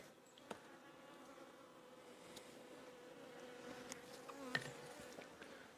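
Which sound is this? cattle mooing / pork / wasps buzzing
wasps buzzing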